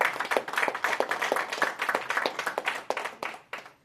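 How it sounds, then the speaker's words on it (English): An audience at a wealth and real estate business event gives a round of applause, a close, lively patter of many individual claps that fades slightly toward the end, without speech. "Round of applause again for Dr."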